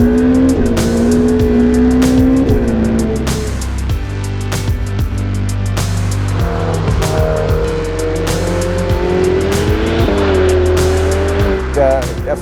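Ferrari 488 Pista driven hard around the L'Anneau du Rhin race track, a loud close engine rising and falling through revs and gear changes, with tire squeal and a voice talking over it.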